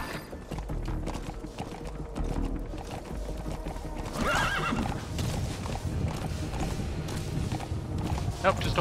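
In Metal Gear Solid V: The Phantom Pain, a horse gives a clear whinny midway through, set among soft hoof clops and game ambience, with a person talking over much of it.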